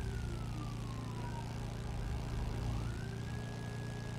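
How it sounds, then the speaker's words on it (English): Rumbler police siren in a GTA roleplay video game, a wailing tone that sweeps down and then climbs back up over a heavy low droning rumble. The siren is moderately loud and continuous, with no speech. "it's called a Rumbler siren"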